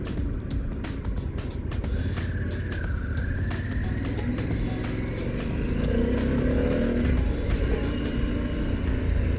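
A 2022 Harley-Davidson Pan America 1250 Special rides along, its engine droning steadily with a rising pitch as it accelerates, mixed with road and wind noise close to the microphone.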